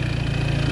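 A stunt scooter engine revs under a short blip of throttle, a loud, close, steady buzzing roar with a fast pulsing beat and no voices.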